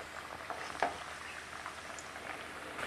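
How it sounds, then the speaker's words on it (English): Oil crackles and sizzles steadily as plantain fries in a pan, a soft continuous frying hiss with small pops, fairly quiet and without talk. "Well, I'm frying plantain."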